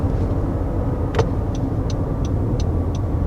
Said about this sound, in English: the motor on the CR-V is quieter when you're, going at it pretty hard.